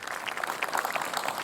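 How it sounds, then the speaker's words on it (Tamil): Audience applause from a crowd at a children's speech and fun show on stage, a steady dense patter of many hands clapping throughout, moderately loud and sustained with no break. "கைதட்டுங்கய்யா."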